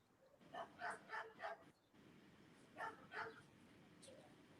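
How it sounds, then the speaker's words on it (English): A dog barks in a faint recording, three quick barks followed by two more after a pause, heard at a distance over a low background hiss. "It's a little low, but you can hear a dog barking there."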